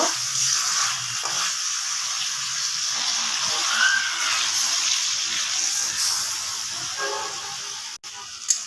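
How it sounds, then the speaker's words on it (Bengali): Water goes into a pan of braised stinging catfish curry, raising a steady sizzling hiss that fills most of the stretch, with a single sharp knock near the end and no speech. "মাছটা ভালো করে কষিয়ে নিয়েছি এখন পরিমাণ মতো পানি দিয়ে দিব"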